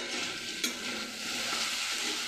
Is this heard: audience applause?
no